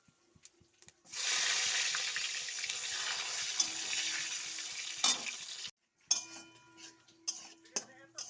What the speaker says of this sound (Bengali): তেল গরম হয়ে গেছে, দিয়ে দিচ্ছি তেজপাতা, শুকনো লঙ্কা, দারুচিনি আর জিরে